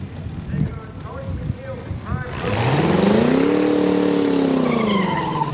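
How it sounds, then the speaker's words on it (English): Drag racing cars at Greenfield Dragway in Nova Scotia, a rising engine roar building loud and sustained as a car launches, preceded by quieter crowd and track ambience with a voice speaking. "The screeching of tires, the roar of exhaust."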